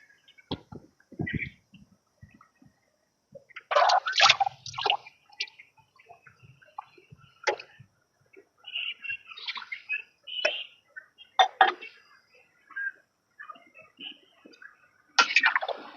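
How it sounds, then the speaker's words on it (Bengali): Water poured or drizzled into a cooking pot of broiler chicken comes through as scattered splashes and drips in irregular bursts, close and fairly quiet, with no talking. "আমি এখানে সামান্য পরিমাণ পানি অ্যাড করেছি"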